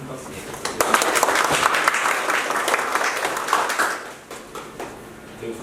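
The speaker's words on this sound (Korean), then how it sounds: "다시 한번 큰 박수 부탁드립니다" Audience applause at the close of an anatomy lecture, a steady dense clapping under a voice talking over it, fading somewhat toward the end.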